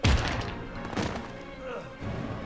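Gunfire in the video game Heavy Rain: a loud burst of shots at the start, another volley near the middle and more toward the end, all dense and close, with some talking mixed in.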